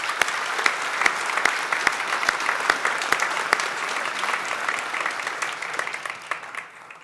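Sustained audience applause for Chancellor Tom Johnson at a 50th-anniversary academy gathering, a dense roomful of clapping with a few sharp close claps standing out, holding steady for several seconds before thinning slightly at the end.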